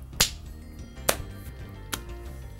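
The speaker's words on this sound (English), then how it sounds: "Clap for joy." Three sharp, separate hand claps ring out at a slow, uneven pace over a quiet background hum, close and fairly crisp.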